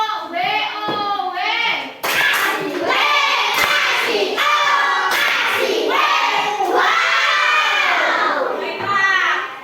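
A class of children does a rhythmic clapping chant, bursts of hand claps mixed with loud young voices chanting and shouting together, close and lively throughout.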